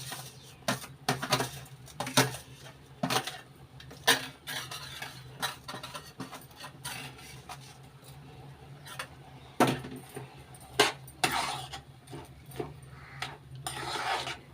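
A metal spoon scrapes and clinks against a pot while fried vermicelli is stirred into boiling milk for semiya payasam, repeated close scraping strokes with uneven rhythm, no talking.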